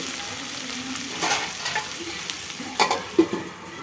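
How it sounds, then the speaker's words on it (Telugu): Potatoes cooking in a pan on a medium flame for a potato-tomato curry, giving a soft continuous sizzle broken by a few sharp spoon clicks and scrapes toward the end. "ఆలు వేసిన తర్వాత కొంచెం స్టవ్ మీడియం ఫ్లేమ్లో పెట్టి ఒక 5 నిమిషాలు ఉడకనివ్వాలి."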